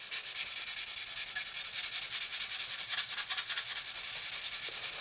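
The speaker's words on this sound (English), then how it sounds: "we just pop along then with our sanding sponges" Steady rhythmic sanding with sanding sponges on a 1/32 scale Trumpeter Swordfish plastic model kit, a dry hissing rub repeating back and forth in quick even strokes, close and continuous with no talking.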